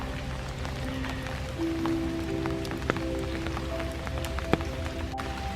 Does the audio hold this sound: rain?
yes